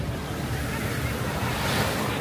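Sea waves wash continuously onto a sandy shore, a broad steady rush with wind buffeting the microphone, loud and close.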